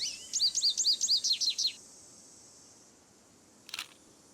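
In a Nancy Drew video game, a goldfinch chirps in a quick series of bright tweets, then after a pause a single short camera shutter click sounds alone.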